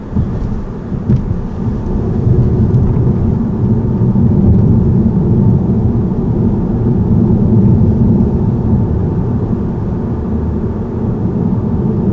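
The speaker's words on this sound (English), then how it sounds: "Such a peppy engine." A car engine pulls steadily under acceleration, a smooth low rumble that holds fairly loud and even throughout, with no talking over it.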